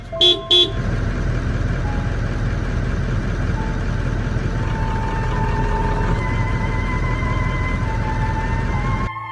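A car honks twice in short, sharp blasts at the start to scare off a lion near a camp tent, then its engine runs on steadily and loudly, with a faint whining tone above.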